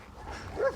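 Dogs kept at a farm building give a short close bark with a whiny yelp at the end, a single quick outburst lasting under a second with no speech.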